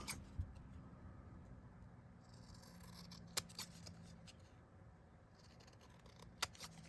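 Scissors trimming a paper strip card decorated with sheep, giving a few sharp, close snips spaced apart over a quiet room background.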